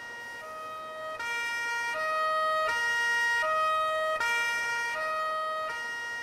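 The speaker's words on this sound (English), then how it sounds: "the exact same phenomenon that occurs when a speeding police car comes your way or is moving away from you" A police car siren sweeps past in a steady rising-and-falling wail, loud and close throughout, its pitch shifting as it approaches and recedes with the Doppler effect, over faint road rumble and no voices.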